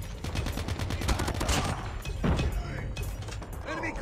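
Rapid gunfire bursts and impacts from a mobile shooter video game crackle steadily, with a voice talking over the action.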